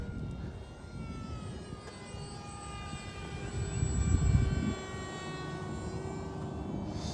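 A Top RC Swift v2 glider with a 64mm electric ducted fan flies fast overhead, its steady high-pitched whine holding throughout and swelling briefly as it passes nearest, with no talk.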